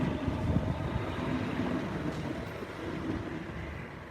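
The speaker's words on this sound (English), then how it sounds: "Oh damn, this train doesn't even stop here." A train rushes past a station platform in Japan without stopping, giving a steady rumbling roar with rattling that stays loud through the whole stretch.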